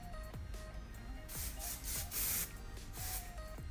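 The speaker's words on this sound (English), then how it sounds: "I'm gonna use a small amount of hairspray." Several short hissing bursts of an aerosol spray, separated by brief pauses, close up in a quiet room.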